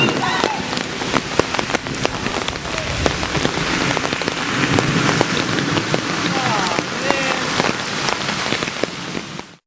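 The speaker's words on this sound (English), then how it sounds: "It's pouring down rain." Heavy pouring rain at night, a dense, steady hiss of drops drumming on surfaces that carries on without a break, with brief sharp clatters scattered through it.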